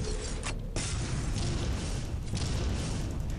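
Roaring blast of a fire-shooting gun in Clive Barker's Undying, a loud, broad, sustained whoosh with a brief gap near the start before it surges again and rumbles steadily on.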